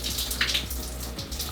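Water from a shower in a cabin bathroom sprays steadily, a hissing, splashing rush with a few louder bursts, no voices.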